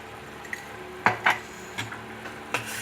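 Sweet and sour fish ingredients are mixed in a bowl: a few sharp utensil clinks and scrapes, two close together, then scattered lighter taps over a quiet background.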